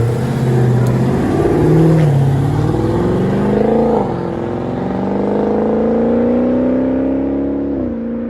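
A 2017 Dodge Charger with the 6.4L 392 HEMI V8, aftermarket exhaust and stock catalytic converters, revs loudly and close up, its deep exhaust note climbing, dropping and climbing again in long, smooth pulls with no talking.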